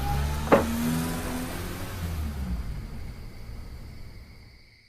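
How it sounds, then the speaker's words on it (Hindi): A car being driven, with a steady engine hum close by and a brief sharp squeak early on. The drone slowly fades while a faint high whine lingers. "आज तो भाई गाड़ी चलाएगा"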